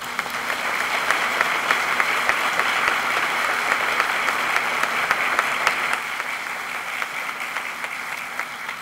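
At a groundbreaking for a design center, an audience gives sustained, steady applause to welcome a speaker named Andreas, a dense wash of clapping that stays even for about nine seconds and eases slightly near the end.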